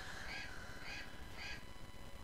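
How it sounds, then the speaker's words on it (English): A crow caws three times in a horror film scene, each call a harsh, rasping burst spaced about half a second apart, set against a steady low rumbling background. "That damn crow's still laughing at her."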